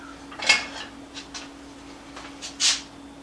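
A wooden spoon clacking against a mixing bowl while craisins are worked into Irish soda bread dough, a few sharp taps and scrapes, close and fairly loud, with no talk.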